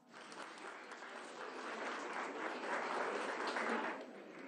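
An audience at a national Afro-Bolivian council assembly bursts into steady applause that swells, holds for several seconds, then tapers slightly.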